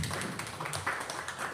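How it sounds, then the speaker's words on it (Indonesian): An audience at an Indonesian talk session gives brief, faint applause, a soft rustling patter of many hands heard from a distance. "tepuk tangan Ibu dan Bapak, keren."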